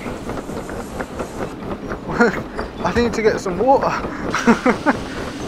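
A steam train rolls on rails in the Derail Valley VR game, giving a rhythmic rumble and clatter while someone talks over it with excited speech.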